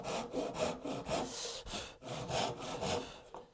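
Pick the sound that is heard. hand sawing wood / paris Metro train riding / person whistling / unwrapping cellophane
hand sawing wood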